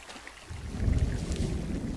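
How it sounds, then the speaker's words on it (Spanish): Thunderstorm in the video game Firewatch: a low, distant rumble of thunder swells in after a quiet start and rolls on steadily with faint rain and wind texture, no voices. "Mira, pinche tormenta."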